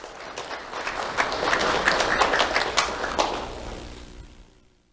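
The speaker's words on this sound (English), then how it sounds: "Let's have a round of applause for Charlie and Anders." An audience at a school awards event bursts into applause for two elementary students, dense clapping building and holding for a few seconds before tapering off near the end.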